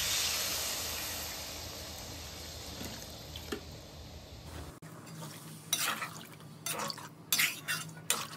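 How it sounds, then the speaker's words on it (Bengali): Water poured into a pan of stir-fried shrimp and pointed gourd, a steady hiss that fades, followed by scattered clinks and scraping of a utensil against the pan. "এবার আমি জল দিয়ে দেব।"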